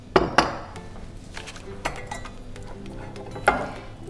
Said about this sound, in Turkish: Yine karıştırıyoruz.